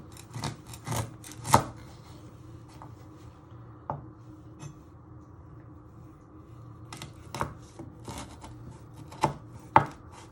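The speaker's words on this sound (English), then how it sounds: "Then you want to chop it in the middle" A sharp knife chops food for a Thai green curry on a board, giving sparse, irregular thuds and clicks in small clusters with quiet gaps between them; close and distinct, with no voices.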